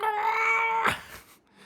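A person imitates a cat with a single drawn-out, whiny meow lasting about a second, close and fairly loud, ending in a short breathy trail.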